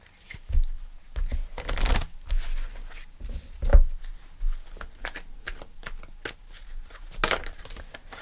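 Tarot cards are shuffled by hand in close, irregular bursts of papery riffling and flicking with short pauses between.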